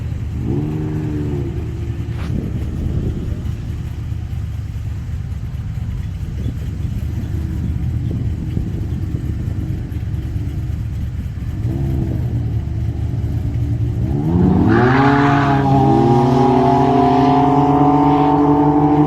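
A Can-Am Ryker on a drag strip with a new intake idles, then blips its throttle, and near the end it revs hard into a loud rising acceleration. There is no talk.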